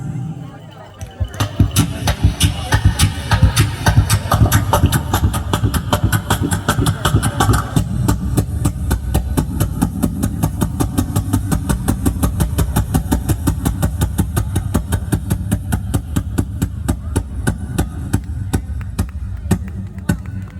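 A voice imitates a boat engine starting and chugging, a rapid rhythmic putter that runs steadily and loudly for most of the clip.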